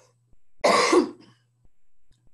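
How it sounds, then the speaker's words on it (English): A person clears their throat and gives a single cough, close and loud, with faint background hum before and after. "I have to cough."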